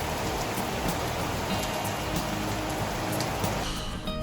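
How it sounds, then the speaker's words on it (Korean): Heavy rain pours steadily in a dense, unbroken hiss during a monsoon-like downpour outside a camper van, loud and close with scattered drop impacts and no voices. "비가 너무 많이 와가지고 나갈 수가 없어요"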